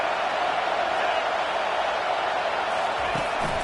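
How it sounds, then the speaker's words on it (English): Loud, steady stadium crowd roar at a football game as fans make noise to help the home defense, a dense wash of voices holding constant throughout. "It is getting loud as this crowd tries to help its defense."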